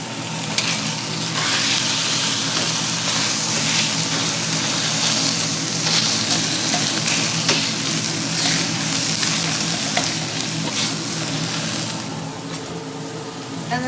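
Steak and lobster sizzle over a turned-up fire, a loud, continuous frying hiss with crackles and spatters that stays steady throughout.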